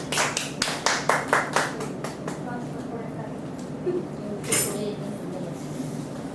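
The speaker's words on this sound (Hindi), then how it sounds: "तालियों से स्वागत करते हैं" A church congregation claps to welcome worship with a quick run of loud, rhythmic claps over the first two seconds. Then a quieter background follows with an occasional clink and faint voices.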